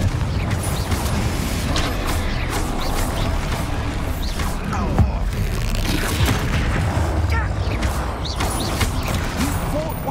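Confringo fire spell explosions in the video game Hogwarts Legacy amid a dense, continuous battle din of booms, crashes and mechanical clatter, with repeated sharp impacts over ten seconds and a voice briefly heard.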